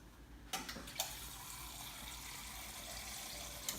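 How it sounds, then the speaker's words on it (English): A little water poured from a tap into protein powder in a jar in a kitchen, a quiet steady trickle with a few light clinks of the container near the start and end, no talking. "I'm just going to put a little water in."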